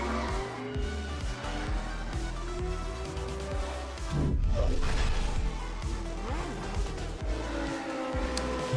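Cars drive in the Fortnite car mode, engines droning steadily with revving swells and a brief crash-like surge midway, against game music and effects, without speech.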